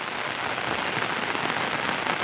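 A close, loud and unbroken wash of heavy monsoon rain after many hours of rainfall, with thick, even patter on surfaces and no speech.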